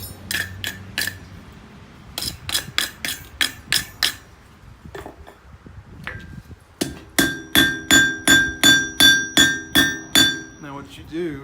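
Hand hammer blows on hot steel being forged into a J-hook, ringing anvil strikes in quick bursts of several hits with short pauses, then a steady run of about a dozen evenly paced loud clangs near the listener.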